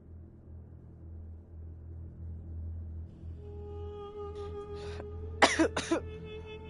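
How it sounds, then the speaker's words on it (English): A person coughs a few times in quick succession, sharp bursts over a low steady background hum. "I coughed again"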